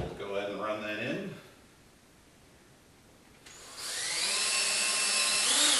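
Power drill driving a screw into the hinge link of a framed plantation shutter, a loud steady whir that starts partway through and runs to the end, following a voice and a short quiet pause.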